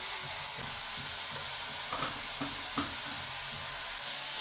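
Tomato rice masala with green chillies and chilli powder fries in a pan, village cooking style, giving a steady close sizzle with a few soft stirring scrapes and no talk.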